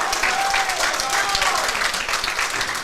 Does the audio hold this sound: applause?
yes